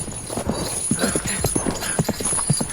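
Horses gallop in clip-clop rhythm through a radio-drama pursuit scene, the hoofbeats steady and fairly close, with no voices over them.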